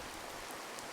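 Sudden rainfall in a video game comes as a steady, dense hiss of falling rain, soft and uniform with no voices over it.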